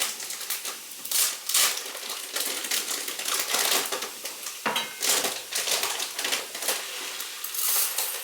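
Arborio rice grains pour into an Instant Pot Pro Crisp, a dry rattling, hissing patter of hard grains hitting the metal pot in uneven bursts, close and fairly loud, with no talk.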